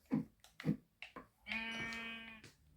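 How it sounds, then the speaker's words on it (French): A few short soft thumps, then one long wavering sheep bleat in Minecraft on a mountain, clear and fairly close. "Oh, il y a des moutons"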